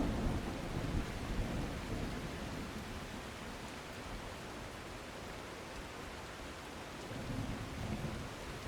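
Rain in the video game The Last Caretaker makes a quiet, continuous hiss with a low rumbling undertone that swells slightly near the start and end, and no voices.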